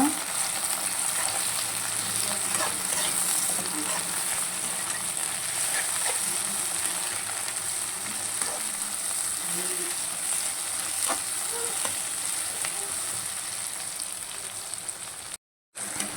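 Gongura (sorrel) leaves fry in a pan for a gongura masala pulihora, giving a steady, close sizzle with light stirring scrapes throughout and a brief dropout near the end.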